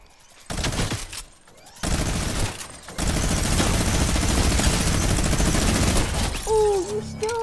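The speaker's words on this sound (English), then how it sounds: "That is a spamming weapon." Rapid weapon fire in the video game Fortnite, a sustained loud burst of spammed shots running for several seconds after shorter opening volleys, ending with a few tonal game effects.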